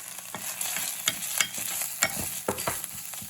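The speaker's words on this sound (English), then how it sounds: "I'm going to add my my cabbage." Cabbage tossed into a hot pan while cooking spicy eel, sizzling steadily as a spoon scrapes and stirs in repeated sharp strokes, close and moderately loud with no voices.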